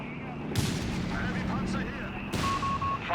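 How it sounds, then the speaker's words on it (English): Mortar fire in the Company of Heroes 3 strategy game, with two sharp booming impacts about two seconds apart over a constant battlefield rumble, moderately loud. "A mortar fire there at Dumais and his Granate in Meerfall."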